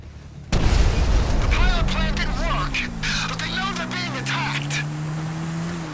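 A helicopter shot down in GTA 5 bursts into a loud, booming explosion that rumbles on and fades slowly, with a player talking over the aftermath.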